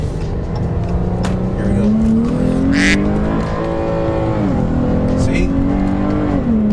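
A 2016 Dodge Challenger SXT Plus accelerates from inside the cabin, its engine note climbing steadily, then dropping briefly as it shifts from first to second before climbing again, with someone talking over it.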